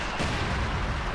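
Mortar fire in a World War II strategy game match between OKW and USF forces: a dense, continuous wash of battle noise with muffled rumble and no single sharp blast standing out, steady and fairly loud throughout.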